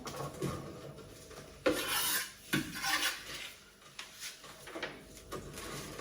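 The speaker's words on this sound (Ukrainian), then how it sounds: "Одразу відправляю у кастрюлю цибульку." Chopped onion tipped into a saucepan while cooking pumpkin cream soup, giving several scraping, clattering kitchen sounds of pieces sliding against metal and a utensil knocking the pan, moderately close with no talk.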